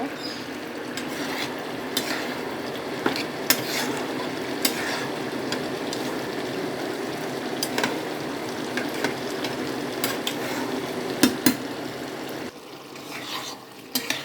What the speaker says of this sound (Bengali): ঢাকনা তুলে আবার আমি তরকারিটা নেড়ে দিলাম